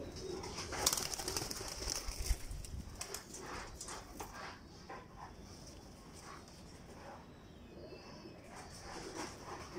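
Pigeons of a dab-wali breed are heard close by with soft cooing and wing flutters over a busy outdoor background, a dog barking intermittently and a voice talking faintly.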